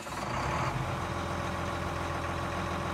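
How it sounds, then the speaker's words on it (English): A big modern tractor engine in Farming Simulator 19 catches and settles into a steady, deep idle, a continuous droning rumble after a brief starting surge. "Sounds like a big modern tractor."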